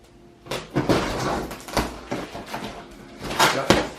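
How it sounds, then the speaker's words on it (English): A small knife cuts open a cardboard box sealed with tape, giving a series of loud, close scraping and ripping bursts with handling knocks in between. "Now open this box together right away. Using a little knife here."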